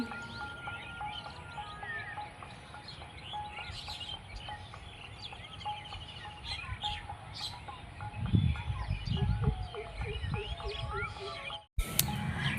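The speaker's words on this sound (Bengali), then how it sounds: "তার সাথে কোকিলও ডাকছে" A cuckoo calls repeatedly among trees in an open grassy field while a breeze blows. Other chirps mix in over a steady background hush of wind, with a brief rumbling disturbance near the end.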